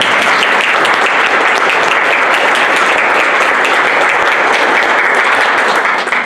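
A church audience applauds steadily and loudly for the longtime organist, dense continuous clapping that fills the whole stretch with no voices over it.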